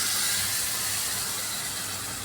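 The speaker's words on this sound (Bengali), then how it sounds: "এই যেটা তৈরি করে রেখেছি বেসন আর দইয়ের এই ঘোলটা, এটা আমি এর মধ্যে দিয়ে দেবো" Gram flour and yogurt mixture hits a hot pan with a loud, continuous, even hiss that stays steady and close for its whole length.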